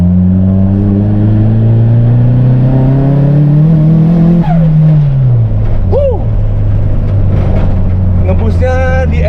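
A Nissan Silvia S13 200SX turbo car accelerates hard, engine pitch climbing steadily and loudly up through the revs, dropping back at a shift, with turbo whooshes and chirps near the end; someone speaks over it.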